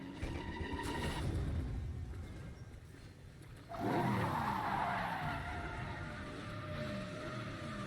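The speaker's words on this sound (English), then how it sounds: "He's gonna do some drifts" Car tires skid and squeal during drifting in Resident Evil 7, a rising screech that starts partway through and holds over a low engine drone, with no talking.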